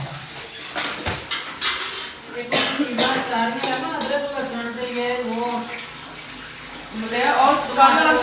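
Running water splashes as a pressure cooker is rinsed in a kitchen, with metallic clanks of the pot against the sink mixed with the flow, close and busy throughout.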